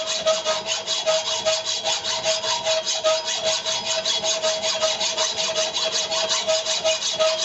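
A hand saw or file works through quarter-inch steel in a fast, even back-and-forth rhythm, each stroke a bright rasping scrape with a ringing tone, repeating steadily and close with no talking.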